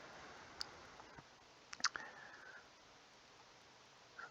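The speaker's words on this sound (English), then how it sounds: "you have to keep clicking on stuff" A few faint, isolated computer mouse clicks sound over a quiet room hush, with a tight double click near the middle, while a Rolemaster Classic character is created on screen.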